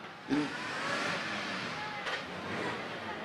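A classic Packard car engine drives past at a vintage car event, a steady broad engine roar that swells and holds for a few seconds, with faint crowd noise.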